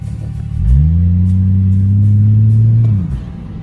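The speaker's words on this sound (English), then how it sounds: "I'll give you gear 2. You hear it start real slow." A Toyota Supra engine pulling slowly in second gear: a loud, close, steady drone that rises in, holds evenly for about two seconds, then drops away.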